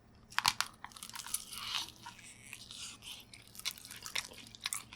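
Crunchy honey-glazed fried chicken, drumsticks and wings, is bitten and chewed close to the mic, giving a string of sharp, crackling crunches in an irregular rhythm over quiet room tone, with no talking.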